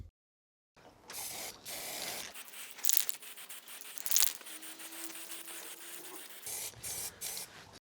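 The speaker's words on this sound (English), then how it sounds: "The next thing we need to do is paint it black." A spray can hisses in several bursts as car parts for a Mini Cooper S R53 restoration are painted black over rust converter, with sharp short sprays and longer steady passes and brief pauses between them.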